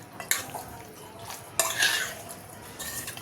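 Fish pieces mixed by hand with cornflour in a bowl, with a few close scraping and clinking knocks against the bowl over a quiet background.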